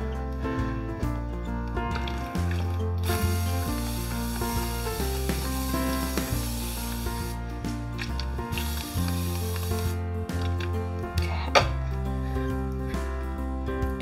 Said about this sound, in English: I'm going to spray a little water after I dry my hands